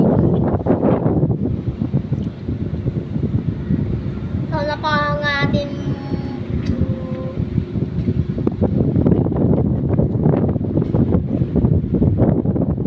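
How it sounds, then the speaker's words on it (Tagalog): Strong wind buffets the microphone with a loud, rushing roar, while people talk briefly over it. "Lakas ng hangin eh po"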